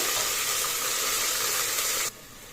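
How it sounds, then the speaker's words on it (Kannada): Onion, mint and coriander fry in a pan over a low flame for white mutton palav, a close, steady hissing sizzle that suddenly drops to a quieter simmer near the end. "ಲೋ ಫ್ಲೇಮಲ್ಲಿ ಇಟ್ಕೊಂಡು ಚೆನ್ನಾಗಿ ಫ್ರೈ ಮಾಡ್ಕೊಳ್ಳಿ"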